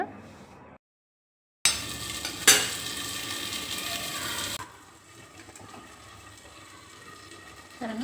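Fish curry bubbling in a clay pot: after a brief silence, a loud burst of bubbling and sizzling with a sharp clink, then a softer, steady simmer, with no voices.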